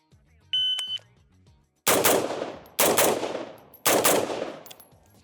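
Three AR-15 rifle shots fired at targets, each a sharp loud crack with a decaying ring, roughly one second apart, preceded by a short electronic timer beep.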